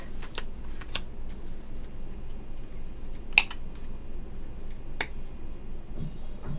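Playing cards being dealt out for a Texas Hold'em game, a few sharp flicks and snaps spaced irregularly over quiet background, one a little louder midway through.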